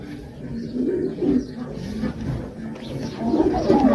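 Pigeons in a breeding loft, cooing in low, throaty bursts that swell and fade, with a busier chorus of several birds rising near the end and no talk.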